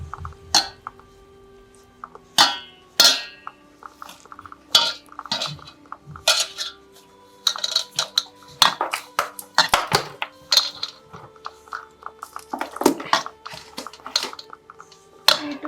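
Dough with oil and sugar for kachori is worked in a kitchen bowl, bringing intermittent close clinks and scrapes of utensil against the bowl, with soft squishing between sparse, irregular hits.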